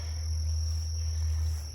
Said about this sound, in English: we got some wasps around here